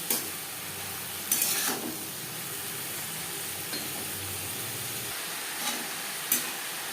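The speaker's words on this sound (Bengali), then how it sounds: "লবণ হলুদ বরবটির সাথে বেশ ভালো করে মিক্স করে দেবে" Yardlong beans stir-fry with salt and turmeric in a pan, making a constant soft sizzle. Several sharp utensil scrapes and clinks stand out now and then, with no talking.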